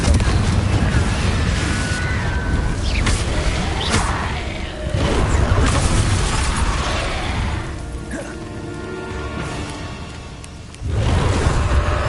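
Loud, dense game audio from Hogwarts Legacy, with the Confringo fire spell causing crackling blasts and booming impacts under a continuous rumbling mix, sharp bursts recurring throughout and an abrupt loud surge near the end.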